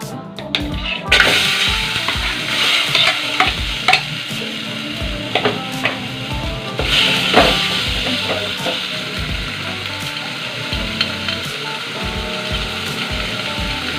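Tomatoes fry in hot oil in a pan, giving a steady close sizzle broken by frequent scraping and stirring knocks from a spatula.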